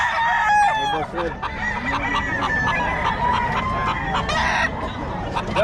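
Several roosters crowing repeatedly at a gamefowl market in Bocaue, overlapping calls near and far with clucking fowl, while someone talks over them.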